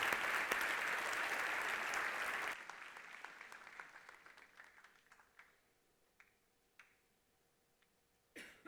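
Applause from a church congregation after a sermon, fairly loud at first, then breaking off abruptly and thinning into scattered isolated claps and small room noises, with one last brief burst near the end.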